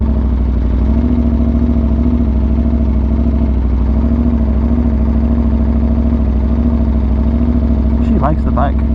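An Aprilia motorcycle engine runs loud and close with a steady droning note, and a brief rev swells near the end.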